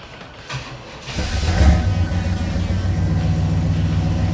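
A 1965 Pontiac GTO engine cranks briefly, fires and catches with a rising roar, then settles into a deep, loud, steady idle rumble close by.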